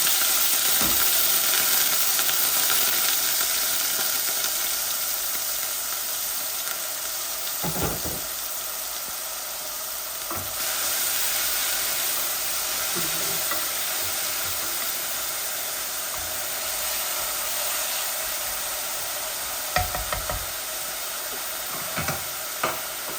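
Onions frying in a pan with chicken and with dried fish, a steady broadband sizzle and hiss running throughout with occasional stirring knocks, no talking.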